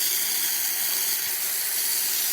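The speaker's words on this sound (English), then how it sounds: "Now this is the steamer." A Profitec espresso machine's steam wand hisses loudly and steadily with a broad, continuous rush that holds unbroken throughout.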